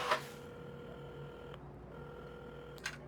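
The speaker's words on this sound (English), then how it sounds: "at the counter, Carmen had started dialing the phone." A telephone is dialed in the game Assemble With Care, giving a short run of steady tonal beeps with soft clicks at the start and end, heard alone.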